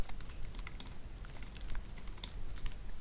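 Steady typing of C program code on a computer keyboard, a continuous patter of close, fairly loud keystrokes over a low background hum, with no voices.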